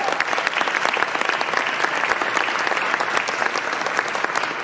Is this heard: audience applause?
yes